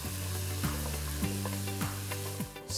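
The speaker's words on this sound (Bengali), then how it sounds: "স্পাইসেসগুলোকে আমরা ফ্রাই করছি" Spices fry with mashed onion, ginger and garlic for a tadka masala, a brief, close, steady sizzle with a few stirring clicks over soft background music.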